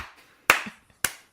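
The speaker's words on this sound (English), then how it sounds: "Please clap." Two sharp, isolated claps at a live comedy podcast taping, a thin, sparse response rather than full applause, with silence between them.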